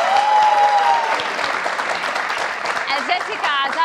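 Loud, dense applause and cheering from a TV studio audience on a talk show, a continuous roar of clapping with whoops and a voice speaking over it near the end.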